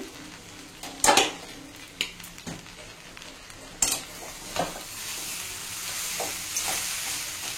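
Schezwan fried rice is stirred in a hot pan, with a soft sizzle under scattered clanks and scrapes of a spoon against metal, close and moderately quiet, no talking.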